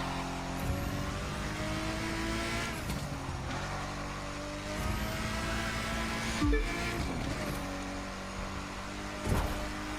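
Lamborghini Diablo, a late-1990s supercar, driving a track in The Crew 2 racing game, its engine droning steadily with gear shifts and brief revving bursts at moderate level.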